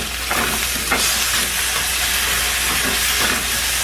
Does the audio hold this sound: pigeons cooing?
no